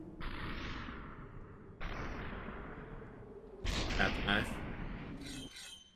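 Three loud, sharp gunshot blasts from the game Superhot VR each ring out with a long hissing tail, followed by a brief metallic clatter.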